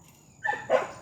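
Dogs bark indoors, two short barks in quick succession at moderate distance after a quiet start.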